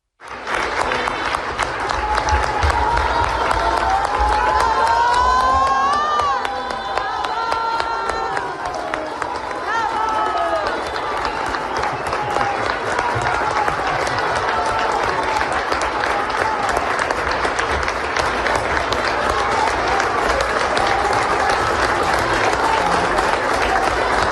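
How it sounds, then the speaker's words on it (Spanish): Sustained applause from a large crowd of Mexican federal judiciary workers, dense clapping that continues evenly for a long stretch, with a few voices and cheers mixed in early on. "la ministra presidenta Norma Lucía Piña fue recibida con aplausos por parte de las y los trabajadores del Pode"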